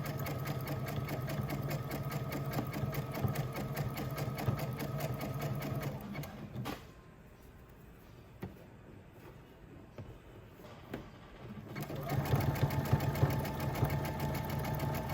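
Sewing machine stitching swimsuit fabric with a steady, fast mechanical hum, running continuously, pausing for a few seconds midway, then resuming louder.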